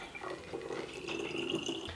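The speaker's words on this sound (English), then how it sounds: "I'm going to fill the bottle the rest of the way up with my water." Water pours steadily from a tap or jug into a plastic spray bottle already holding concentrated soap, a continuous close splashing trickle lasting a couple of seconds with no talking.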